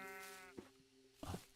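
A sheep in Minecraft bleats with a wavering, nasal cry, then a softer second bleat follows after a pause, faint and without any talk.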